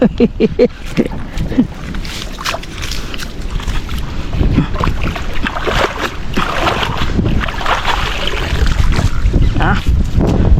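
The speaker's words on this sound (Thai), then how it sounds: "ได้ยินเสียงลมแล้ว" Strong wind buffets the microphone in continuous gusts, with rushing, rumbling noise and some boat and water sounds underneath.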